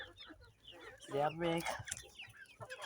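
Hens cluck close by in short, irregular bursts, with one louder drawn-out squawk in the middle and softer background clucking throughout.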